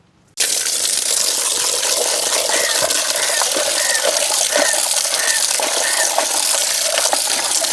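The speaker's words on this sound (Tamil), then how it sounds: "நாங்கள் வடிவாக இதை கழுவி எடுப்போம்" Soaked goat trotters being washed by hand in water for a village-style soup, a steady close splashing and rinsing wash with faint knocks and clinks, no voices.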